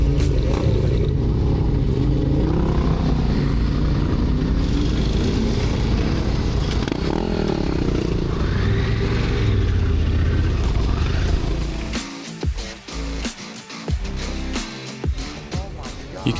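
Honda Africa Twin motorcycle labouring through deep sand patches in a forest, with a loud, churning engine and heavy wind rumble that continue for about eleven seconds before dropping into choppier, uneven bursts.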